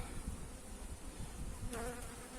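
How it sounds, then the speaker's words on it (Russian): Angry honeybees from an aggressive colony buzz at an autumn apiary, a dense continuous drone of many insects close by, with one bee flying noisily past the microphone. "Злые пчелки"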